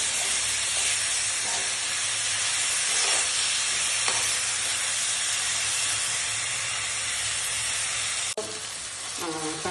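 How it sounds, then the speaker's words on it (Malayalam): Tomatoes fry in a pan with a steady, loud sizzling hiss, broken by a few soft scrapes as they are stirred; no voices. "തക്കാളി നന്നായിട്ട് ഇതൊക്കെ വഴണ്ട് വരണം അതുപോലെ നന്നായിട്ട് ഫ്രൈ ചെയ്തുകൊണ്ടിരിക്കണം"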